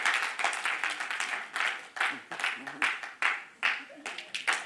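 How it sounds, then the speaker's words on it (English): Scattered hand claps from a church congregation standing to applaud a speaker during a service, irregular and fairly close, with voices talking over them. "Give this man a hand clap."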